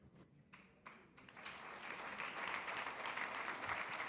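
Audience applause at a public address, a few scattered claps at first that swell into steady, fairly distant clapping from a large crowd filling the room.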